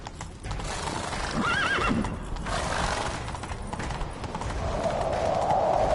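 Horse hooves clatter continuously with a whinny near the start during a chase in The Witcher 3, under a dense, busy background of game action noise.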